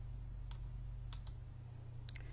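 Several faint, sharp computer mouse clicks come in quick pairs on a quiet desk while a font is selected in a word processor.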